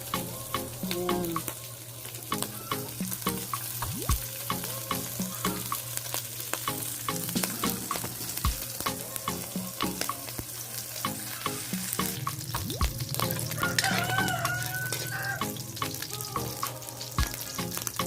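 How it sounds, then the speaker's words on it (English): Pork fillet sautés in a pan with a steady, close sizzle and spatter, broken by scraping stirs and a few clanks of utensil on pan, ending in a brief trickle of water in the background. "She's sauteing pork fillet."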